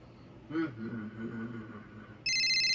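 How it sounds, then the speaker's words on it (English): Telephone ringing indoors, an electronic ring bursting in loud and sustained at the end after faint background sounds and a brief voice. "Ah, the phone!"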